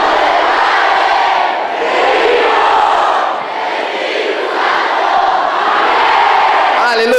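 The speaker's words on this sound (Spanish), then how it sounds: "Vamos a comenzar una porra al Señor." A church congregation chanting a rhythmic cheer to the Lord in Spanish, many voices shouting together loudly in waves, a dense crowd roar that rises and falls for several seconds.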